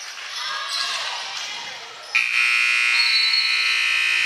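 At the end of a play in a preseason basketball game, a loud electronic buzzer blares as a long steady tone over crowd noise in the gym.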